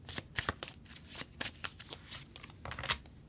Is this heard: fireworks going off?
no